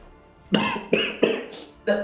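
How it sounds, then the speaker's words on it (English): Four or five sharp, separate coughs in quick succession, close by and fairly loud, with brief pauses between them. "Just that I'm coughing"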